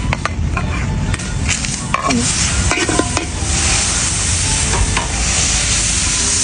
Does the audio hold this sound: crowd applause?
no